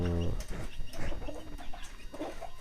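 A fighting rooster kept by a backyard breeder clucks close by, short bursts of clucking and crowing-like calls over a noisy farmyard background.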